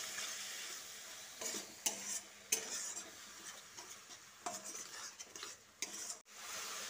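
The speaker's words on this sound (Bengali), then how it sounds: "তারপর সামান্য একটু জল দিয়ে মশলাটাকে ভালোভাবে কষিয়ে নিচ্ছি।" A spice paste of Kashmiri chilli and coriander powder with a little water is stirred and sautéed in a pan, soft close sizzling broken by irregular scrapes and clinks of a spoon against the pan.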